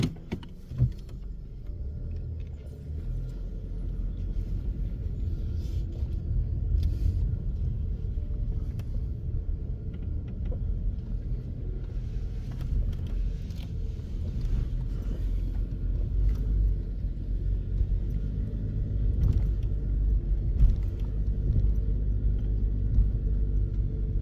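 Inside a car rolling slowly through Oak Hill Cemetery in Janesville, Wisconsin, a low steady engine and road rumble continues throughout, with faint occasional rattles and thumps.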